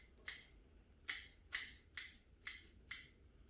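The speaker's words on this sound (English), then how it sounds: "I'll cut this one back a bit in the root system." Sharp scissors snipping back the roots of a Japanese maple bonsai during repotting, six crisp separate cuts at a steady, slightly uneven pace, close and clear against a quiet background.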